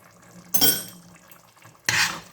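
A spoon stirs zucchini caviar with tomato paste in a pot, making two short scraping, clinking bursts about a second apart against quiet kitchen background.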